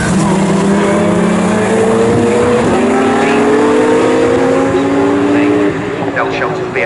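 GT race cars including a McLaren, BMW and Porsche 911 roaring loudly and continuously, engine notes rising and overlapping as several pass close by, with a commentator talking over them.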